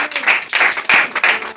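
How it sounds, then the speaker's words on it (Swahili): Church congregation clapping together in applause, a dense, steady wash of many hands that swells and dips in waves over a couple of seconds, with no voices standing out. "Mpe Bwana makofi mazuri."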